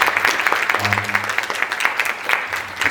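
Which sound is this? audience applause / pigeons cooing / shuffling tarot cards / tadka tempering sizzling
audience applause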